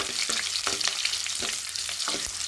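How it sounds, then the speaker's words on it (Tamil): Onions sauté in oil with mustard seeds in a pan, a continuous sizzle broken by repeated close scraping strokes of a spatula in a loose, quick rhythm. "வெங்காயம் போட்டுக்கலாம் நல்லா கொஞ்சம் வதக்கலாம்"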